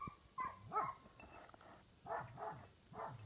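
Somewhere off at a distance, a dog barks several times in faint, uneven bursts over a quiet outdoor background, with no one talking.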